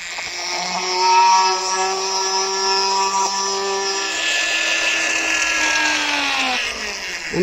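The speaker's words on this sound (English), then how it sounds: "You notice I'm cooling the drill bit too." Diamond-tipped drill bit cutting into a transparent lock while being cooled, a loud close high-pitched whine that holds steady and gradually shifts pitch, with no voices.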